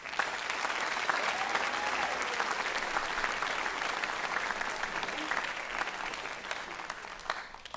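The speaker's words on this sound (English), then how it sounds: "can we have one more round of applause for these?" A crowd at an awards ceremony and commencement claps steadily, a full, even roar of many hands sustained for several seconds without a break.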